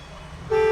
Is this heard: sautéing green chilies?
no